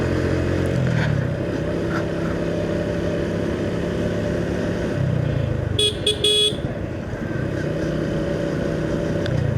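A Suzuki Gixxer Monotone motorcycle ridden through traffic, its engine humming steadily up close while surrounding vehicles rumble and a short horn honk sounds midway.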